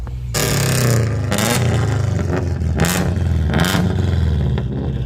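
A Subaru with a modified, homemade exhaust line revs hard in loud repeated bursts, the engine rasping up and dropping back several times close by.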